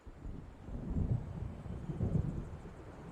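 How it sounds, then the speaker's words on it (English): In the video game Alan Wake Remastered, a storm approaches. Low rumbling thunder and gusting wind swell and fade in a steady dark roar, faint and distant, with no voices. "It seems there's a storm coming."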